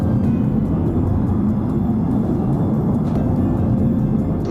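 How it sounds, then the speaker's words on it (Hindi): Skyquake, a mysterious atmospheric rumble like a jet engine or storm, heard as a loud, steady, deep roar that continues unbroken throughout. "ये एक जेट इंजन या तूफान की तरह सुनाई देती है"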